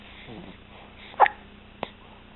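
A child's loud hiccups, two sharp isolated bursts about half a second apart over a quiet room background, with faint sounds before them.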